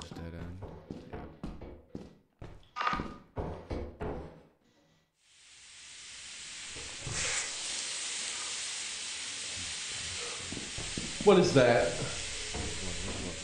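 Steam hisses in the Lethal Company video game, a steady broad hiss that starts after a player speaks and runs on, with a louder burst of noises near the end.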